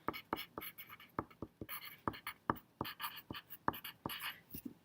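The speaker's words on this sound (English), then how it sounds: "You can write them out like this." Marker or pen strokes on a board during a math class, a quick series of sharp taps and scratches in an uneven rhythm, close and fairly clear with no talk over them.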